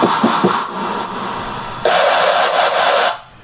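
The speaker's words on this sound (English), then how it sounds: "The screech on the first drop here just sounds like this." A harsh synth screech from the first drop of an electronic track, a loud, noisy, buzzing tone with a few stuttering hits at the start, then a brighter, fuller sustained section that cuts off near the end.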